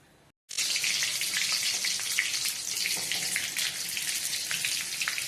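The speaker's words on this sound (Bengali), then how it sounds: "শুকনো লঙ্কা দিয়ে দিলাম," Dried red chillies hit hot oil after a brief silent pause, setting off a sudden, close, loud sizzle that carries on as a steady crackling hiss with scattered pops, with no voices.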